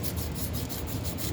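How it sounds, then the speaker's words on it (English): A forged piston is hand-sanded, giving a steady, continuous abrasive rubbing with a faint regular back-and-forth pulse, close and even throughout. "I'm probably going to give a little bit more sand right on this side here."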